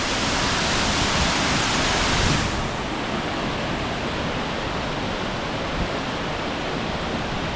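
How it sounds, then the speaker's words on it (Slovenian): Two waterfalls in Holta canyon, Albania, roar together as a loud, steady broadband rush of falling water, slightly softening after a couple of seconds and continuing unbroken with no speech. "Evo, oba slapova naenkrat."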